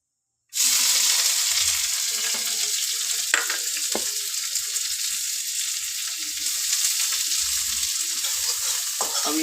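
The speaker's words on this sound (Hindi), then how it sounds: "देखिए तेल डाल चुके हैं अभी हम जीरा खड़ा मसाला डाल दिए फिर हम प्याज डालेंगे" Cumin, whole spices and onions frying in hot oil, giving a loud continuous sizzle close up that starts abruptly and holds steady, with a few stirring scrapes and clinks over it.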